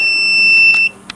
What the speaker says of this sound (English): Now let's explore what this obnoxious beeping noise is.